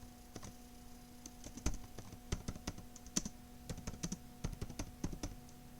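Keys on a computer keyboard clack in quick, uneven bursts as a terminal command is typed, close and fairly quiet, with short pauses between clusters of keystrokes and no one speaking.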